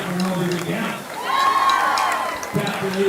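A high school football playoff crowd with the student section out in force, a dense mass of cheering, shouting and chanting voices rising and falling throughout, with a commentator speaking over it.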